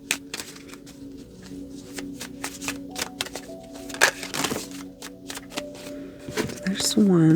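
Tarot cards are shuffled close by in quick crisp riffles and soft slaps, with short pauses between bursts, while a voice speaks quietly over parts of it.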